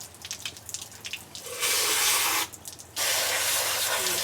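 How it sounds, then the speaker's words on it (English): Water poured from a jug over the leaves of a Phalaenopsis orchid, with scattered drips and splashes, then two loud steady bursts of splashing water separated by a short pause. "I'm getting water on the leaves and it's really hard not to. Even with the water jug, it's hard not to"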